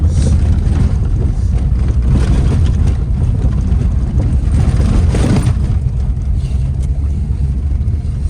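A VAZ 21099 car drives through snow on a winter road, its engine droning loud and close, a steady low rumble with brief surges of revving throughout.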